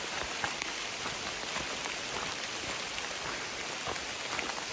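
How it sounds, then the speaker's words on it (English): Steady rain falls continuously on a forest hiking trail on Mudlick Mountain, Sam A. Baker State Park, Missouri, a dense patter of drops on leaves and ground, with no voices. "It's raining."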